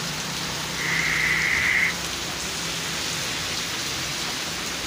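Steady rain falling in Multan, a continuous even hiss of drops hitting surfaces, with a brief high whistle-like tone rising above it for about a second.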